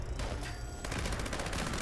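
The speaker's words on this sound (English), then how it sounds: "And look at the explosion now." Dense, rapid explosive bursts from a Fallout 76 weapon fitted with the Tesla Science perk, a loud continuous crackling barrage that thickens midway and rolls on without pause.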